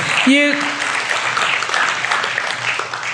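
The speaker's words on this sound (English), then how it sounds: "You don't have to clap after each poem." Steady applause from a crowd at a poetry reading fills the clip, with a brief voiced sound near the start rising above the clapping.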